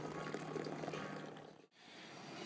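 Wort runs out of a mash tun while an IPA is brewed, a soft continuous trickle and splash of liquid, fairly quiet, briefly cutting out before resuming.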